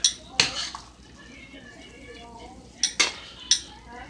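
Al dente spaghetti, fresh from the pot, is tossed into a pan on high heat for lobster spaghetti Florentine, with a few clattering clanks of metal on the pan at the start and again near the end, and a faint voice between them.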